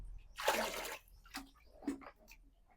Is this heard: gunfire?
no